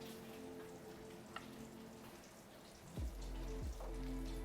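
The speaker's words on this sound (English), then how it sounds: "Bacon sizzling? Yeah, sounds like applause." Bacon sizzles and crackles steadily in a hot cast iron pan, a dense hiss with scattered pops, and a low hum rises near the end.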